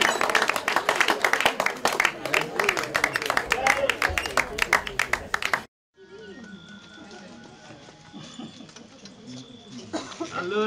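An audience bursts into dense, steady clapping for about five seconds, then it cuts off abruptly to a quieter room with faint scattered sounds.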